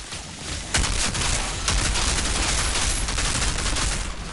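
Steady, dense gunfire from corrosive bullets in Outriders, loud and continuous with sharp bursts layered over one another throughout.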